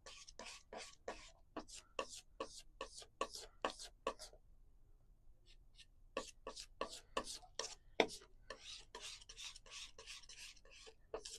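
Oil paint colours, a touch of cadmium yellow among them, being mixed on a palette with a knife, giving crisp rhythmic scraping strokes in quick bursts with a brief pause, faint and close.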